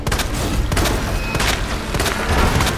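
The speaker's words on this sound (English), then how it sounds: "Shoot him in the back." Rapid gunfire from the video game Resident Evil 2, with loud overlapping shots and booming bursts packed densely across a noisy, continuous game soundscape.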